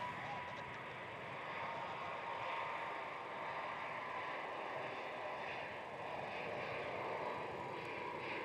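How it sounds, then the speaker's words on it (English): Air New Zealand jet taking off from a runway at Melbourne Airport, bound for Auckland, heard as a steady, broad engine roar that holds fairly constant and sounds somewhat distant. "Air New Zealand 136, cleared for departure, runway 34. Departing Melbourne for Auckland"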